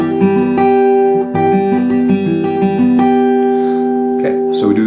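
Fingerpicked acoustic guitar pattern for a song at full tempo, a steady flow of close, bright plucked notes over ringing bass strings with quick repeated attacks.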